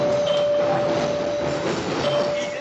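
A train riding on rails gives a steady rumbling roll with a faint high whine running through it, heard from inside the car, fairly loud and continuous, with no one talking.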